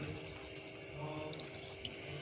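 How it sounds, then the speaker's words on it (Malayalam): Water is poured into a pot of homestyle pork curry, making a steady, faint splashing rush like a running tap, with no talking. "നമുക്ക് കുറച്ച് വെള്ളവും കൂടെ ഒഴിച്ചിട്ട് അടുപ്പ് വെക്കാം"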